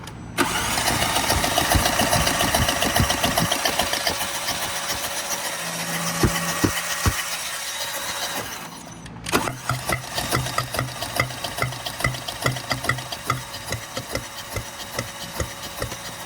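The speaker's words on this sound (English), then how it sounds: "let's crank the engine" Porsche Cayenne engine cranked by the starter with a rapid whirring churn, a brief pause, then catching and running with a steady, slightly uneven idle, close and loud.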